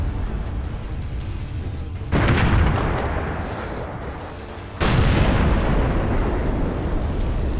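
An M53 artillery shell landing on an E-75 heavy tank in a tank video game: two heavy booming blasts a few seconds apart, each with a long rumbling decay, loud and alone.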